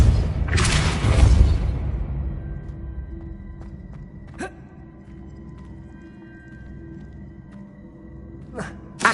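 A Depulso spell cast in Hogwarts Legacy bursts out as a short, forceful whooshing boom that quickly dies away, followed by a quieter stretch with a couple of sharp thuds.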